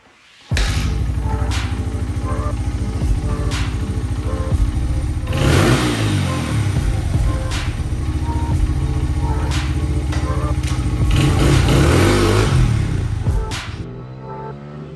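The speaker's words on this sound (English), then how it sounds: "after warming up the bike and giving it some test runs in the backyard and on the street" A motorcycle engine fitted with a genuine Keihin carburetor runs close and steady, idling with a throbbing pulse and rising in several revs before settling back down, with no talking over it.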